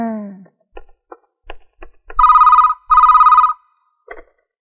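A telephone rings twice in a hostel office, two long electronic trills with short clicks and handling noises before and after, close and loud, with a brief voice at the start.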